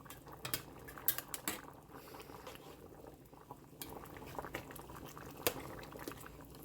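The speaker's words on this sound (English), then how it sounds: "Make sure we stir them up so they don't get stuck together and they don't stick to the bottom of the pan also." Linguine boiling in a pan of water, a steady bubbling with occasional clinks of a utensil stirring against the metal, fairly quiet and close.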